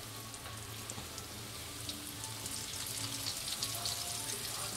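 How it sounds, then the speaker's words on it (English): Floured, seasoned chicken frying in a skillet gives a steady, close crackling sizzle like light rain, continuous and even throughout, with no talking over it. "I'm gonna fry it in this skillet"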